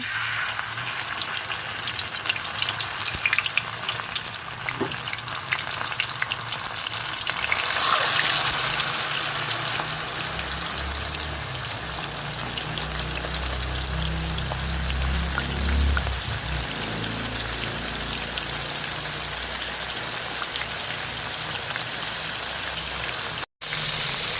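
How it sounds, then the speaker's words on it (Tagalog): Pakoy, a fern, fries in hot oil in a pan with a loud continuous crackling sizzle that stays steady throughout, close up and without speech. "ako po nag-iinit na ng kawali po na may mantika at ako po magpiprito na"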